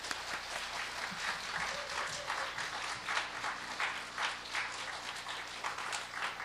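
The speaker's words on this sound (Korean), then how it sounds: "뜨거운 박수 부탁드립니다." A congregation gathered for a mothers' prayer meeting at a church applauds warmly as the pastor comes forward, a steady, fairly distant wash of many hands clapping throughout.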